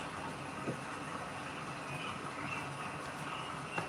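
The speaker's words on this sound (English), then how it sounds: "Sorry if you hear a blowing sound in the background, that's my furnace." A steady, faint whooshing hum of a furnace blower runs through the background, broad and even, with a couple of soft clicks.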